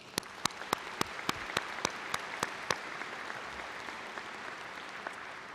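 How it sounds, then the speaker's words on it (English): An arena audience at a Hawkeye Community College commencement applauds graduates, with a series of sharp, evenly spaced close claps standing out over faint, distant clapping that fades away. "Let's give them a round of applause."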